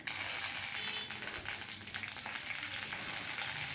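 Mustard seeds in hot oil sizzle and crackle steadily up close, with small popping bursts scattered through the frying hiss.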